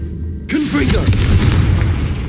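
A Confringo blasting spell in Hogwarts Legacy hits with a sudden loud boom after a quiet moment, followed by rumbling combat noise while a voice speaks over it.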